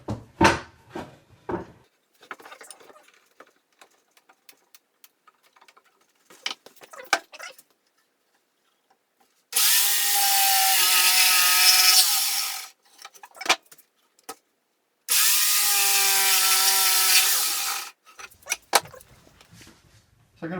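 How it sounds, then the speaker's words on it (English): A jigsaw cuts the last pieces of wood for a leg vise in two loud, steady bursts of about three seconds each, each preceded and followed by quieter clunks and handling noises. "I'm going to just use my jigsaw to cut those last pieces out"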